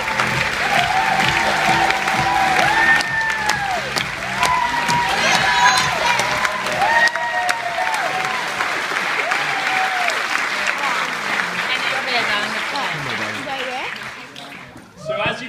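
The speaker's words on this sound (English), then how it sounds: "One last round of applause." Audience applause at a youth summit, sustained and fairly loud with scattered cheers and whoops, voices talking over it, tapering off near the end.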